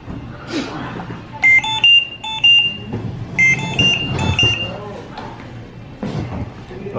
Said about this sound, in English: Okay, so I'm going to create an alarm.